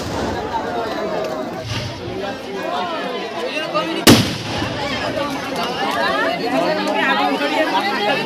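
A firework bursts during a fair's fireworks display, one sharp, loud bang cutting through steady crowd chatter while a person talks nearby.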